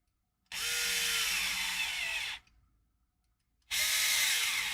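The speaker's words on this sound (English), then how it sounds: "we're going to try just putting caddy corner screws in and see how that feels." A power drill drives screws into an RC crawler chassis in two bursts, the first about two seconds long and the second starting after a short pause, loud and close with no talk.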